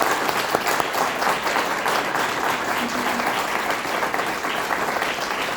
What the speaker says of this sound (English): Now's a good time for a round of applause for all the candidates.